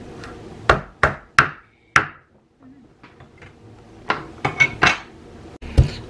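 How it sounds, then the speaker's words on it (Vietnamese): Hard squash being chopped with a knife on a board, a series of sharp, close chopping knocks in two bursts with a few quieter taps between. "Phải chặt nó mới được."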